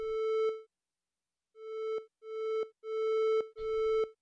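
Liven XFM synthesizer playing a one-operator FM tone with a long, slow attack, five sustained harmonic notes separated by short gaps, each swelling up gradually before cutting off, heard alone and clean.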